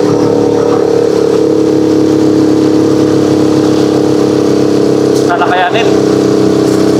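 A Rusi Chariot 175 tuktuk climbs a slope hauling a motorcycle of about 100 kilos, its engine revving in a loud, steady drone throughout. A voice speaks briefly over it.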